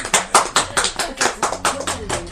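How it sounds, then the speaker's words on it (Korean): Audience clapping in a slow, even rhythm of about ten distinct claps, close and fairly loud, at a talk on sleeplessness. "박수 칠까요?"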